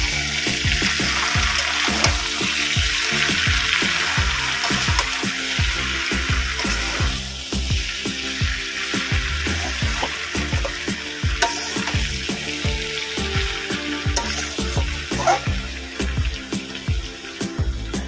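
A steady stirring and light sizzle in a pan as chopped bottle gourd is mixed into fried katla fish head, with repeated spoon scrapes and a continuous frying hiss.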